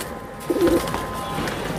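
Teddy pigeons in a Bangladeshi pigeon shop give a single soft, low coo at close range over a faint background hum, brief and unaccompanied by speech.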